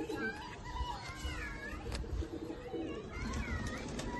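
Two male Madras pigeons at a home loft cooing softly, the low burbling coos running under continuous outdoor background noise with a few faint calls.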